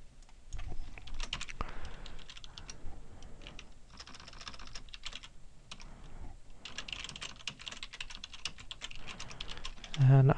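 Rapid typing on a computer keyboard while entering an episode title, close clicking keystrokes in quick bursts with short pauses.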